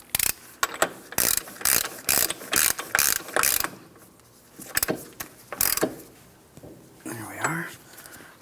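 A hand ratchet tightens an axle nut on a 2004-2008 Pontiac Grand Prix, clicking in rapid bursts of strokes close by, followed by quieter tool handling and a brief hushed voice.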